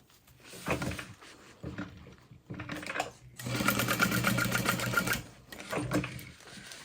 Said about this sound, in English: sewing the exterior fabrics together, keeping the lining up out of the way